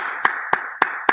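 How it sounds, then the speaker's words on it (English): Four sharp hand claps, evenly spaced about a quarter second apart, land close and crisp over a steady low background hum. "I'm just gonna clap. In a very classy way."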